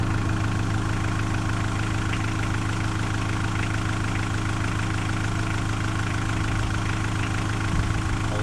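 A 1985 Pontiac Trans Am with a 5.7 V8 that has sat unused for seven years, running with a steady, loud idling engine drone that holds evenly throughout, close to the microphone with no talk.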